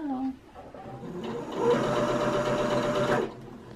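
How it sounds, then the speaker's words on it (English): A sewing machine stitches slippery, silky fabric in a fast, steady mechanical whir that starts after a brief pause and runs for about two seconds before stopping, close and fairly loud, with a voice just before it begins. "Make sure I don't sew into the other layer because this is so silky."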